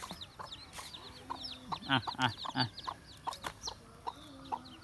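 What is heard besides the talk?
hen and chicks clucking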